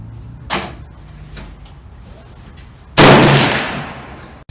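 A Browning BLR lever-action rifle in .358 Winchester with a 4-power scope fires once on a target range, a single loud, close report with a sustained blast, preceded by a few faint clicks.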